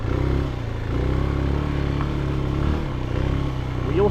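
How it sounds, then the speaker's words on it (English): CFLite Dual 250 motorcycle engine running steadily and loud throughout, rising in revs near the end as the rear wheel spins, with a rider talking over it. "wheel spin."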